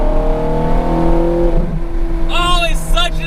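Ferrari F430 Scuderia with a six-speed manual pulling hard through the bottom of fourth gear, its engine note loud and close from inside the car and rising, with a driver talking over it near the end.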